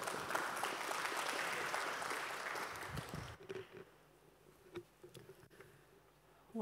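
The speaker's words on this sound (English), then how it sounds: "Please applaud." A conference hall audience claps for a speaker taking the stage, a fairly quiet, even spread of applause lasting about three seconds before cutting off into near silence with a few small knocks and rustles.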